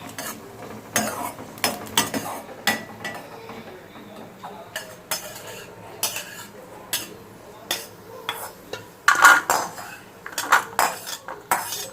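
A spoon stirs and scrapes a moong dal flour laddu mix with ghee in a metal vessel, giving repeated clinks and knocks against the pot at an uneven rhythm, with faint voices in the background.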